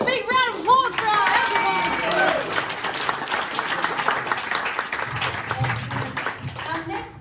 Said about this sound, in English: Give a big round of applause for our